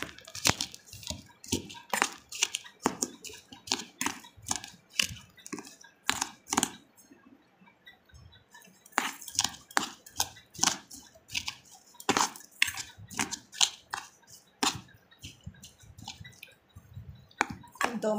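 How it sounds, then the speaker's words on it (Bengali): A spoon mashes and mixes wood apple pulp with very hot chili in a bowl, making repeated close, wet clicks and scrapes in a steady, uneven rhythm for a long stretch. "আমি এটাকে চামচ দিয়ে মাখছি।"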